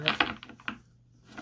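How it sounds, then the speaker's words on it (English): Tarot cards shuffled right beside a microphone, a close, crisp burst of papery riffling clicks that trails into quieter taps. "I don't like the sound of the cards shuffling right next to the mic"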